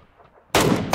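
A burst of gunfire from a weapon in PUBG Lite, rapid loud shots starting abruptly after a quiet half second and continuing to the end, with no talk.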